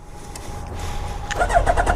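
A stretched Suzuki Hayabusa motorcycle starts up, its engine catching with a short cranking whir before settling into a close, steady, rising rumble.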